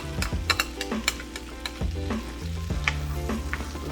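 Two garlic cloves sizzling in a pan on the stove, a soft steady fry dotted with light clicks and taps of a utensil, quiet and close with no talking.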